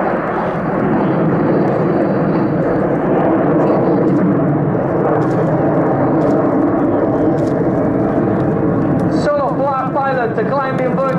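Frecce Tricolori aerobatic jets fly a display, producing a loud, sustained roar that fills the air throughout, with a commentator's voice coming in over the jet noise near the end.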